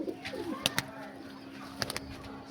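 Soft, low pigeon coos drift under a faint background hum, broken by a few sharp clicks and taps nearby.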